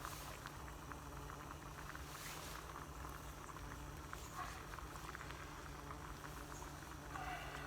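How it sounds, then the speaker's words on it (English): Water boils in an egg poacher cooking an egg at an outdoor bushcraft breakfast. A faint, steady bubbling hiss with light patter continues throughout, with no voices. "it's just 3 or 4 minutes to cook an egg with this poacher"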